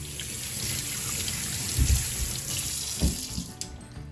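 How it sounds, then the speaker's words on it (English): Water runs steadily from a tap into a sink, a constant hiss with a few soft splashes and bumps of hands moving under the stream. "Now I'm going to wash my icky hands."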